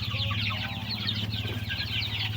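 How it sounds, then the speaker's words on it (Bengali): Farm chickens clucking and chirping in a coop, a busy overlapping chorus of calls over a steady low machine hum, moderately distant and continuous. "তো মুরগিগুলা খুব সুন্দর হয়েছে,"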